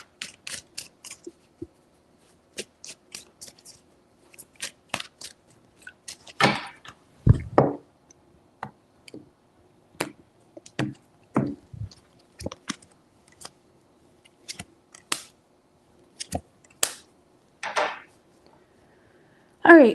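Tarot cards being shuffled three times during a reading: scattered crisp riffles, flicks and taps of card stock, some near and loud, with soft breaths and small handling noises between bursts.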